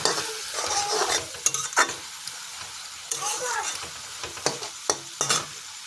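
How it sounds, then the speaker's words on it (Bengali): Mustard greens being stirred and fried in a pan, a close, steady sizzle broken by sharp scraping strokes of the spatula every second or so, with no talking. "দেখুন, আমি আবারও নেড়ে চেড়ে দিচ্ছি।"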